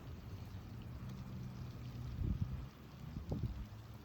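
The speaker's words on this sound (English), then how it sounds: "So yeah, the wind is picking up." Wind blowing through a snowy Boxing Day blizzard in Belleville, a steady low roaring rush with a couple of stronger gusts buffeting the microphone.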